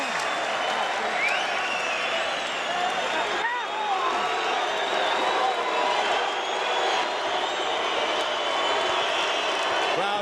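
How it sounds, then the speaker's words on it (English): A large boxing arena crowd during the Chris Byrd vs Jameel McCline fight, a dense, steady roar of jeering and booing throughout, with a commentator talking over it. "Crowd boos Byrd,"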